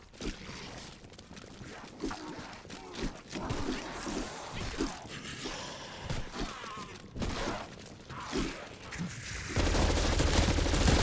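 Rapid bursts of automatic gunfire in Call of Duty: Black Ops Cold War, with repeated loud shots through the clip and a denser, louder stretch at the end. An announcer voice talks over it.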